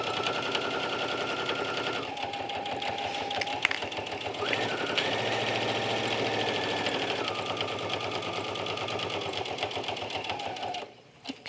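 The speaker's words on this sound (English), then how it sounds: "I had no trouble sewing with that metallic thread" A sewing machine runs steadily, stitching cork fabric with metallic thread, a close, loud continuous mechanical whir with rapid needle ticking and faint high tones, stopping near the end.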